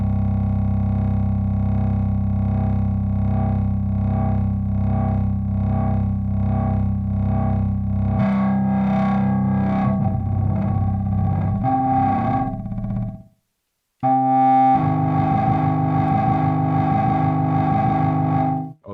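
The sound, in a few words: wave fold effect on Elektron Tonverk synthesizer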